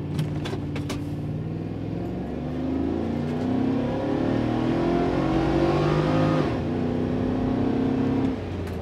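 A Chevrolet Trailblazer SS launches hard from a power brake in a 0-50 acceleration run, its engine rising in pitch as it revs up through the gears, loud and close with no talking.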